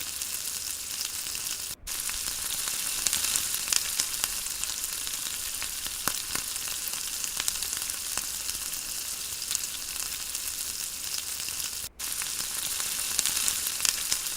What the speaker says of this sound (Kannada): ಮೊಟ್ಟೆ ಫ್ರೈ ಆದಮೇಲೆ ಅದನ್ನು ರೈಸ್ಗೆ ಹಾಕ್ಕೊಂಡು ಚೆನ್ನಾಗಿ ಮಿಕ್ಸ್ ಮಾಡ್ಕೊಳ್ತಾ ಇದ್ದೀನಿ